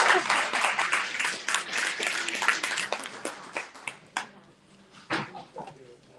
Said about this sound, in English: let's give our timekeeper, Tim Torelli, a round of applause